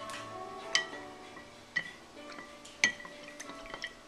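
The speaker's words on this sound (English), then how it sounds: "just go really slow and mix it so as not to create bubbles" A homemade liquid makeup brush cleanser is mixed slowly, giving a quiet background of liquid with a handful of sharp, separate clinks and drips spaced about a second apart.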